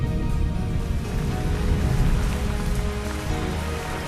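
Rain falls steadily on the ground and surrounding surfaces, a dense, continuous patter of drops with no voices, loud and close throughout.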